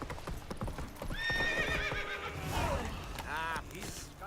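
Roach the horse in The Witcher 3 hooves clip-clopping at a rapid gallop, broken by loud whinnying neighs, close and prominent.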